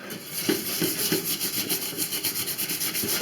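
Small scraper rasping burnt residue off the bottom of a saucepan with a little dish soap and liquid, steady repeated close scraping strokes in a quick rhythm, alone without talk.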